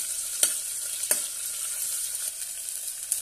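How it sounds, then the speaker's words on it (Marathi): Sliced onions sautéing in a pan for rajma pulao, a soft continuous sizzle with a few crisp spoon taps against the pan, fairly quiet and close, no speech. "छानपैकी परतून घेऊया।"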